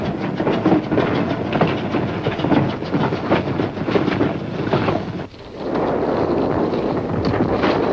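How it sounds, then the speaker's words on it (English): Freight trains roll along the railway, a continuous rumbling clatter of wheels on track with rhythmic clicking, mixed with wind buffeting the microphone and a brief dip near the end. "Trains loaded with war wearies going back for salvage."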